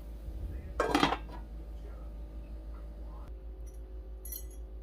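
A lid set onto a cooking pot of salmon head soup, one short metallic clink near the start, then quiet kitchen hum with a few faint ticks.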